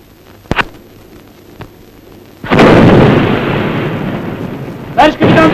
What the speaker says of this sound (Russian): Товарищ капитан Петеров, правый борт курсовой 50, взрыв снарядов.